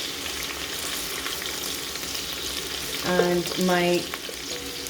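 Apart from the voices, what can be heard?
onions and garlic frying in a pot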